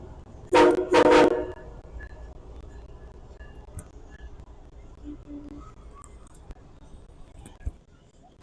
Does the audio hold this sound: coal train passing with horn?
yes